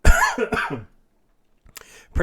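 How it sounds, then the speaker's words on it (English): A close, harsh cough bursts out in a couple of quick spasms, followed by quiet and then a brief throat noise. "Sorry about that cough."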